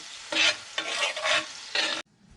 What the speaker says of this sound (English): let some of the alcohol cook off, let the mushrooms cook